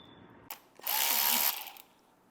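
Power tool removing T25 bolts from a radiator, a sharp click followed by a brief loud whirring burst of about three quarters of a second, then winding down.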